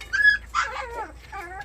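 Young white Korean Jindo-type puppies being carried to a new pen, giving three close, high-pitched whimpering yelps in quick succession, no voices.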